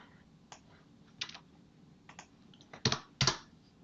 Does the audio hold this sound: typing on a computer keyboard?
yes